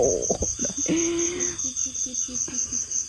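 Crickets chirp in a rice field at night: a dense, steady high-pitched chorus throughout, with a few low croaking calls underneath.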